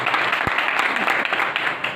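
Audience applause at a live gathering, a dense steady wash of many hands clapping that holds for two seconds without a break.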